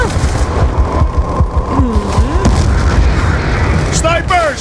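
Call of Duty: Black Ops 2 combat with booming grenade blasts and gunfire-like bursts, mixed with a steady background rumble and voices, loud and continuous.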